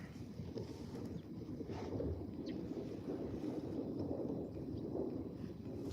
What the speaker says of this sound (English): it's not even supposed to be this windy